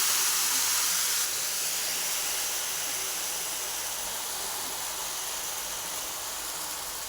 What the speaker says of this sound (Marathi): तवा चांगला गरम झालाय, गॅस आपण कमी करायचा आहे